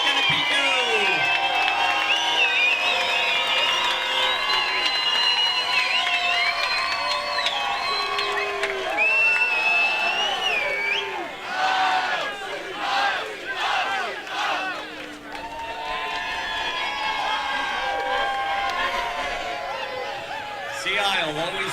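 A beach crowd at a South Jersey lifeguard championship cheers and whoops loudly for a long stretch, with shouts and yells rising and falling and voices carrying over the noise.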